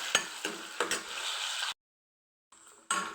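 Dried fish pieces fry in hot oil, a close, bright sizzle with a few sharp pops and stirring clicks, cut by a silent gap before the crackling resumes.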